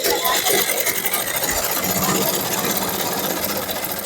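A sewing machine runs steadily, stitching a hem on a shirt with a fast, continuous mechanical whirr and rattle, fairly close and without pauses.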